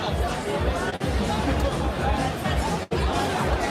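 Dense crowd chatter at the Montreux Jazz Festival in Switzerland, a steady babble of many voices close around, briefly dipping twice before resuming at full loudness.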